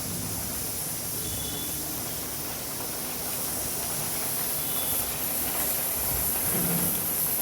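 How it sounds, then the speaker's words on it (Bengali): Steady hissing fills the kitchen as a pressure cooker of meat curry lets off steam while rain falls outside, a continuous wash of noise with brief faint whistling tones. "এদিকে প্রেশারে সিটি পড়ছে আর ওইদিকে বাইরে বৃষ্টি হচ্ছে"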